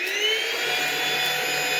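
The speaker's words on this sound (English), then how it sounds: "You're going to hear the sound, we're going to see together how it handles this big debris" A PrettyCare W400 vacuum cleaner runs with a steady, close whining motor drone as it sucks up a whole leaf and other large debris, with no voices.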